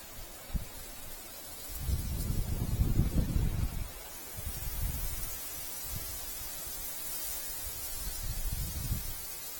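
Wind gusts by a river during a fishing session, mostly low rumbling buffets against the microphone. One stronger gust swells and fades, then gentler bursts follow, all fairly faint.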